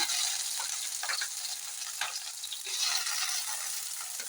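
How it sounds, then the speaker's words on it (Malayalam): Okra and green chilies sauté in hot oil for a Kerala-style okra curry, giving a steady close sizzle with a few scraping stirs of a spoon against the pan. "വെണ്ടയ്ക്കുണ്ട്, പച്ചമുളകുണ്ട്. ഇത് നമുക്ക് എണ്ണയിൽ നന്നായിട്ടൊന്ന് വഴറ്റിയെടുക്കണം."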